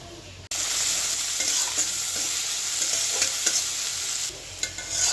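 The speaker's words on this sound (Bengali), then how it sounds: "এখন পেঁয়াজটা ভেজে নেব" Onions frying in a hot kadai, a loud steady sizzle that bursts in after a brief quiet start and carries on with faint stirring clicks, no voices.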